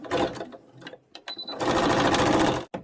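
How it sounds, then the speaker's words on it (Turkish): Sewing machine stitching an elastic waistband, bursts of fast, rattling needle clatter broken by short pauses, close and loud with no speech over it. "Pekiştirerek dikişlerimizi dikiyoruz."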